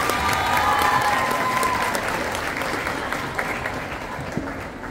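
A crowd applauds loudly and steadily after winter guard competition results are read at a high school gym show, the clapping dense and sustained, easing slightly toward the end with a few scattered louder claps.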